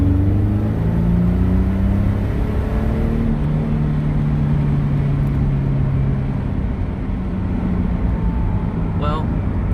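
A twin-turbo V6 Mustang accelerates hard in second gear, its loud, sustained engine roar climbing steadily in pitch from start to finish, close and unbroken.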